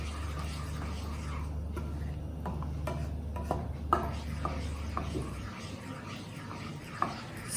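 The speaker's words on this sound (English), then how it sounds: "You have to go on stirring. You cannot stop stirring it." Wheat flour stirred in a pan for kada prasad, with a steady scraping and rubbing of the utensil, irregular clicks and knocks against the pan, and a low hum that drops away partway through.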